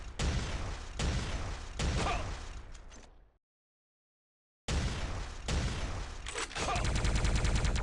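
Rockets fired in the fast-paced movement game Quake DeFRaG, giving a loud run of booming blasts and whooshes, then a brief silence before more explosions and rapid crackling fire.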